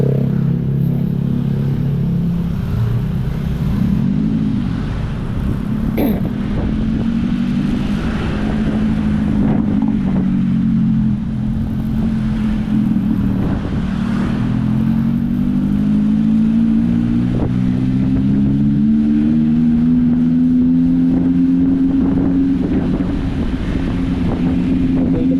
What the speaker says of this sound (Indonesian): Suaranya racing agak berisik suaranya kalau masuk di itu, apa namanya, di kamera keras sekali suaranya.